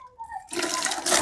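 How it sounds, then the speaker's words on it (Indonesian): Water gushing into a container for a Brazilian pet turtle's tank, a short rush that starts softly and then pours loud and steady, no talking. "Hanya kita isi airnya"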